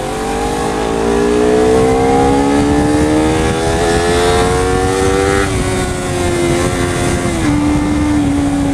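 A Honda CBR250RR motorcycle engine on a test ride, revving hard and climbing steadily in pitch, easing briefly near the end and then pulling again, loud and close with no talking.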